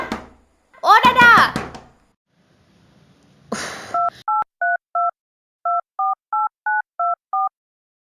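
A phone keypad dialing a number: a run of eleven short, evenly spaced two-tone beeps, loud and clear, following an earlier burst of speech and a brief thump.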